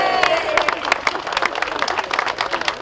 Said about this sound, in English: A round of applause rang out just outside of City Hall as dignitaries and donors cut a ceremonial ribbon